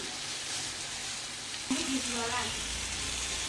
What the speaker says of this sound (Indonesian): Kita tumis dulu ya sampai harum.